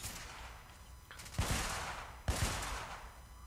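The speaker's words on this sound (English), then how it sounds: "People are going to hear that gunfire." Two sharp gunshots a second apart ring out over a steady background hum, each with a short echoing tail, from the video game 1886.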